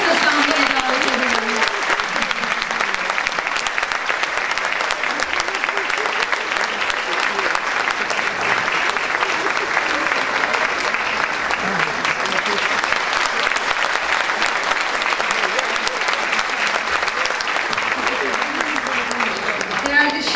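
A concert audience at a Turkish classical music concert applauding as an oud player is invited onto the stage, a long, steady roar of clapping from a large crowd, with voices faintly underneath.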